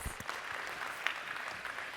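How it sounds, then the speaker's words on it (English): Audience applause at an airport city summit panel in Western Sydney, a steady wash of clapping hands that stays even for two seconds, fairly quiet, with a few sharper claps and a faint voice beneath. "let's give her a warm Western Sydney welcome and a round of applause"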